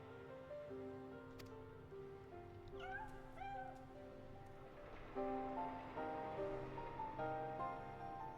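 Cat meowing in Final Fantasy XIV, a few rising meows in a row over game music and ambient background, moderately loud within the mix.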